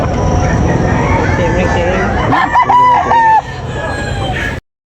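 Red rooster at a Cebu fowl market, a clear crow rising over a busy background of chatter and crowd noise, with people talking close by throughout.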